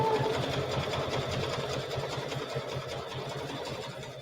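A sewing machine running steadily while stitching a thick satin stitch, a fast even mechanical whir with rapid needle rhythm, close and continuous throughout without talk.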